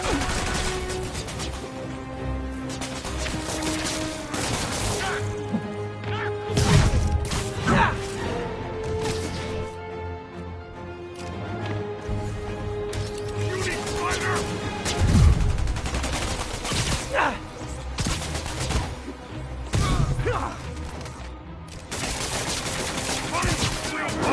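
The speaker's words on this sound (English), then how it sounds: "Open fire!" Enemy gunfire in Marvel's Spider-Man Remastered, scattered shots, crashes and impact thwacks recurring over about twenty seconds amid game music and effects, with intermittent voices.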